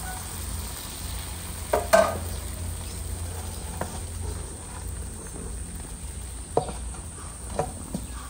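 Bánh xèo pancake batter with small shrimp and minced pork sizzles steadily in a hot pan, a continuous frying hiss broken by a few sharp clatters and scrapes of a utensil, with no talking.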